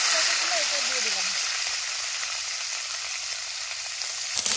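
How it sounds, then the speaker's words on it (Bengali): Ginger, cumin and garlic paste with cardamom and cinnamon frying in oil for prawn malai curry, giving a steady, close sizzle that holds throughout with a sharper rise at the very end. "লাল লাল করে প্রায় ভাজা হয়ে গেছে"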